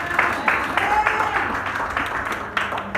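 A church congregation claps and cheers for the Lord, a steady wash of applause with scattered sharper claps running throughout, while a voice speaks over it.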